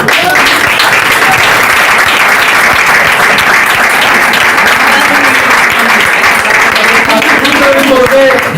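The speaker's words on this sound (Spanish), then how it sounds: "un nuevo aplauso para Manolo" Loud, dense applause from a lecture audience after a talk on the hermitages of Our Lady of El Rocío, a sustained roar of clapping that fills the whole stretch, with faint voices mixed in.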